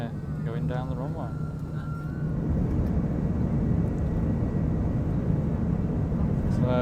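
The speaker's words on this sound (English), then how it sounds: "We are going down the runway." An Aer Lingus airliner taking off from Manchester rolls down the runway, heard from inside the cabin as a deep engine rumble that swells and holds steady, with a brief voice or chime early on.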